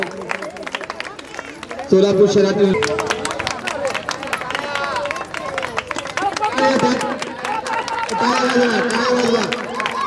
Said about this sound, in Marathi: जोरदार टाळ्या आमच्या मान्यवरांसाठी